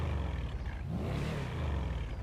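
Pegassi 8F Drafter sports car in GTA Online, a low growling engine rumble that swells briefly mid-way, fairly quiet and steady with no voices.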